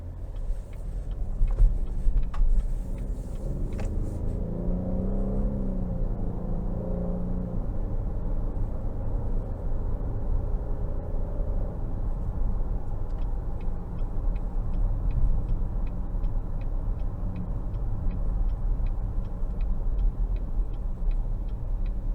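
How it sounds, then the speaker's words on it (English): A 2023 Cadillac XT6 Sport cruising on the road in all-wheel drive mode, its steady low road and engine rumble continuous throughout, with a faint regular ticking, likely a turn signal, joining in the later part. "take this XT6 Sport out on the road for a quick test drive"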